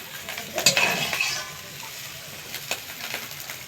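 Fried okra stirred and scooped from a pan, with a brief burst of sizzling and clinking around the first second, then a quieter, steady background hiss with light scraping.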